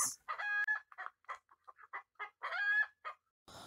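A mother hen clucks on her nest as an effect in a children's story: a busy, rhythmic run of clucks and squawks, close and clear, with no talking.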